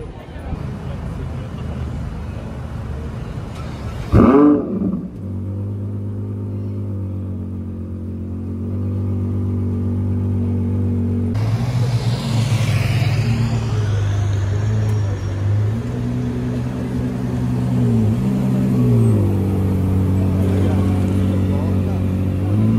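A blue Aston Martin DBS speedster out carspotting on a Paris street, its engine settling into a steady low rumble with a brief rev and lift near the start, droning on over traffic noise.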